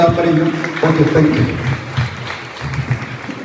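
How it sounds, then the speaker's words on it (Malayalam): An audience claps at a school golden jubilee logo release at Adakkakundu HSS, a crowd patter mixed with an amplified voice talking over it, loud and close, thinning toward the end. "എല്ലാവരും ഒന്ന് കൈയടിച്ച് പ്രോത്സാഹിപ്പിക്കാം"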